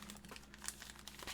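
Thin plastic bag holding a mecha decal sheet crinkles softly as the sheet is pulled out, a quiet, close run of brief rustles and crackles with no voices.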